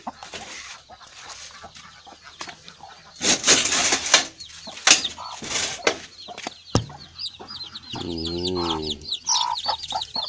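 Native hens cluck among their young chicks in a coop pen, with chirping, a few louder calls and some wing flapping close by.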